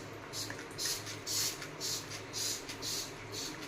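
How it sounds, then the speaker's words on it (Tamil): Kitchen cleaner sprayed onto an oil stain in a kitchen, heard as about six short, hissing trigger bursts in a steady rhythm, close and fairly quiet over faint background noise. "அதனால திரும்பி நான் வந்து ஸ்ப்ரே பண்ண போகிறேன்."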